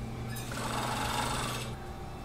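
A sewing machine stitches right sides together around the hood of a hooded sweatshirt, a close, steady whirring run of a little over a second that starts and stops cleanly against a quiet room.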